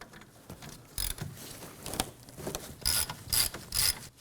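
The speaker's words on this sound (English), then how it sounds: "So using a 14mm socket, go ahead and remove both of these bolts." A ratchet with a 14mm socket turning caliper bracket bolts on a 2016-2020 Kia Sorento 2.4L, giving a few short metallic clicking bursts at close range with no talk.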